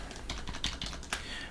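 Rapid keystrokes on a computer keyboard as a terminal command is typed on an ArcoLinux machine, a steady run of close, clicky taps with a few sharper accented strikes.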